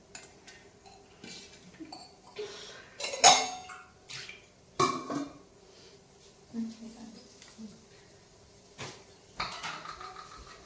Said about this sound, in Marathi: आता माझ्याकडे दिलेलं आहे काम भांडी घासायचं